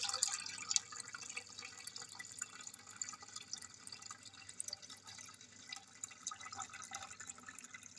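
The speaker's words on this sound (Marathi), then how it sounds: "मी आता कपडा ठेवून हा चीक आता गाळून घेणार आहे गव्हाचा" Wheat extract strained through a cloth drips and trickles steadily, a faint close patter of liquid with irregular small splashes and no talking.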